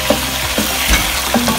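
Onions, ginger and garlic frying in a pan for chicken biryani, a steady close sizzle broken by scraping stirs, with no talking.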